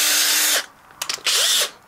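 A power drill bores a relief hole in a DIY solar junction box, two loud whining bursts separated by a short pause with faint clatter between, close up and with no talking.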